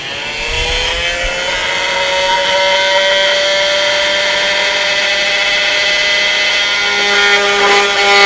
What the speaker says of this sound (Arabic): الآن حنستخدم منشار الأركيت عشان نكمل.